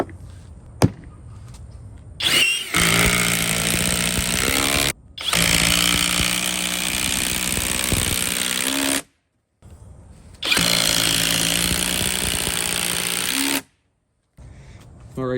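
A FLEX quick-eject impact driver sinks 6-inch deck screws in three long, loud hammering bursts of about two to four seconds each, with short pauses and faint handling noise between runs.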